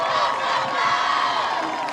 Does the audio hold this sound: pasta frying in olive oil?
no